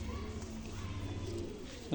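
A slender pigeon coos low and steady from close by, a continuous soft murmur filling the whole stretch before a sharper call breaks in at the very end.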